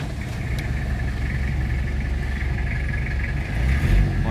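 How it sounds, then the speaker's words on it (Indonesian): The diesel engine of a 2002 Toyota Kijang LSX idles steadily at close range in a low, even rumble, with a brief rise in revs near the end and no talk. "suara mesinnya enak banget"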